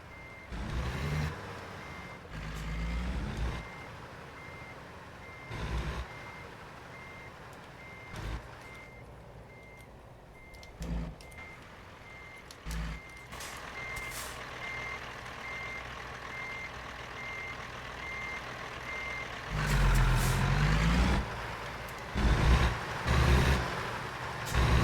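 A truck reverses in American Truck Simulator, its reversing alarm beeping in a steady, regular rhythm over a low engine drone, with louder engine surges and an air-brake hiss near the end.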